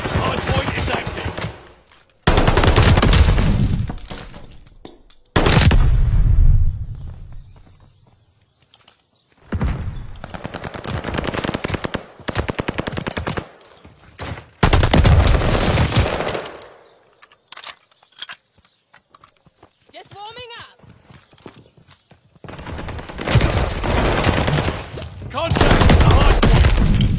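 Bursts of automatic gunfire erupt repeatedly in a Call of Duty Hardpoint match on the Bocage map, loud and close, with pauses between volleys, game announcer voice lines and a brief whooshing effect mixed in.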